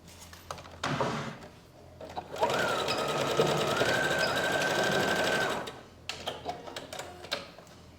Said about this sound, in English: sew over it a few times again.